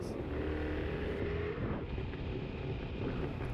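A Jawa motorcycle ridden through Kyiv streets on a Sunday evening: a steady engine drone with continuous road and wind rumble throughout, fairly loud and close, with no talk.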